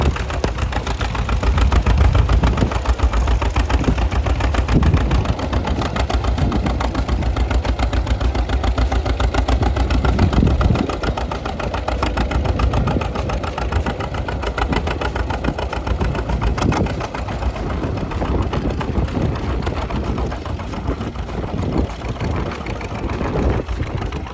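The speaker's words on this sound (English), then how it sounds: "Lyle Grimm of Iowa coming with his unstyled A John Deere, pulling a John Deere number 52 plow equipped with NGP bottoms." A steady, chugging unstyled John Deere A tractor engine pulling a John Deere No. 52 plow at a plowing contest runs throughout, a continuous mid-range rumble with slight variations in intensity, no voices present.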